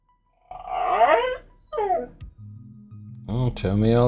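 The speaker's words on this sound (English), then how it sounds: "Hello, puppy." A puppy whimpers and yips up close in high, wavering cries and whines, several vocalizations with a short low growl between them, loud and alone.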